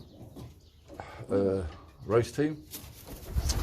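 Young racing pigeons coo softly inside a loft corridor, their low throaty calls mixed with someone talking nearby.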